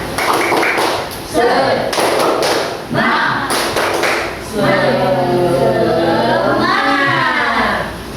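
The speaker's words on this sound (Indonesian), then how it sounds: "Tepuk semangat." A class of pupils beats out a rhythmic spirit clap, sharp bursts of claps and thuds alternating with voices chanting along in a lively classroom.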